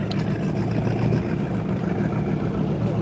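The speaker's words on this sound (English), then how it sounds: "Some of these boats just sound amazing. They got some big old engines on them. Sound like a race car." A powerful boat with a big engine runs on Lake Michigan, a steady low throbbing rumble from a moderate distance that continues evenly with no talk.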